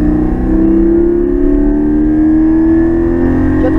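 A Porsche Cayman GT4 accelerates on a race track. The loud engine gives a steady droning tone that climbs slowly in pitch throughout, heard from inside the car.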